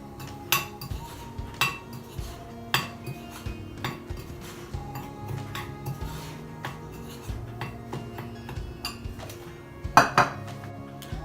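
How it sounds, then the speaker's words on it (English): Melted butter and crumbs being mixed in a bowl for a no-bake mango cheesecake base, with a spoon scraping and clinking against the bowl in irregular repeated knocks, close and moderately loud, one sharper clatter near the end. "Mix them well."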